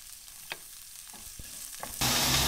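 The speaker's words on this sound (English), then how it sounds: "we're gonna cook the ginger and garlic up first and then add some cumin seeds." Ginger, garlic and cumin seeds fry in a pan with a soft sizzle and a few light clicks and scrapes, then a sudden, much louder burst of hissing near the end.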